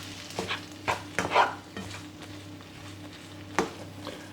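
Spoon stirring through fried rice with kecap manis for chicken and shrimp nasi goreng: a few scraping strokes with soft sizzling beneath, one sharper clack near the end, no talk.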